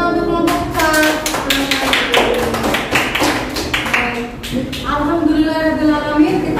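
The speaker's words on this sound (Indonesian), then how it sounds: "Beri tepuk tangan untuk kelompok 4." Students in a classroom clap for a presenting group, a dense run of sharp hand claps repeating steadily for several seconds, close and fairly loud, with voices mixed in among the claps.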